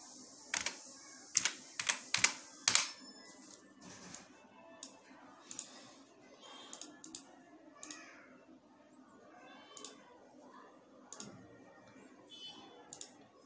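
Computer keyboard typing slide titles in PowerPoint 2007, with a quick burst of loud, close keystrokes at the start followed by sparser, softer taps, with faint background noise and no talk.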